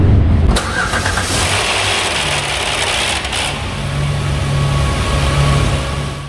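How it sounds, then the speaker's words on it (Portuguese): A Kia Cadenza engine cranks and starts with a loud, broad dragging noise for the first few seconds, then settles into a steady, close idle with a low hum. "eu vou ligar o carro para vocês verem o problema do barulho"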